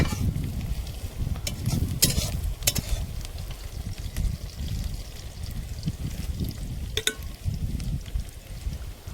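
Hakka noodles tossed with black soy sauce and red chili sauce over a rustic desi clay stove, giving a steady close scraping, stirring rustle over a low sizzle, with sharper clatters near the start and again near the end.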